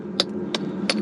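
A hammer strikes solid caliche rock three times at an even pace, each blow a sharp, close metallic crack over quiet background hiss.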